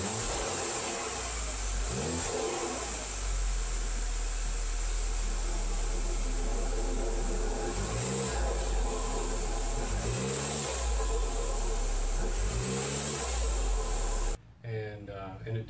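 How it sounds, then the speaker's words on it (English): An Audi A4 B8 engine revs repeatedly under power brake, with several rising rev sweeps over a steady running drone, fairly close, alongside talk. "when you power brake on it, the engine actually wants to move up"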